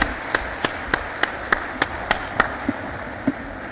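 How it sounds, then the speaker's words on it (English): Rhythmic unison clapping from an audience at a launching ceremony for children, about eleven sharp, evenly spaced claps roughly a third of a second apart, with a murmuring room behind them. "Another round of applause, please,"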